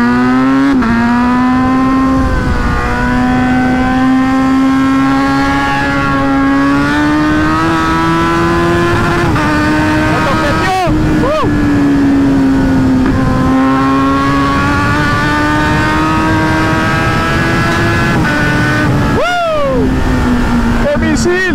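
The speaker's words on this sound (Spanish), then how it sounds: "Esta moto responde duro." A Kawasaki Z900 motorcycle pulls hard on the road, its engine note rising and settling in long sustained surges, loud and close. Brief rushes of wind pass by, and a rider talks over the engine.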